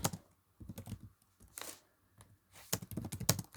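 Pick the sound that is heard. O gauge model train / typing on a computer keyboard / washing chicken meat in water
typing on a computer keyboard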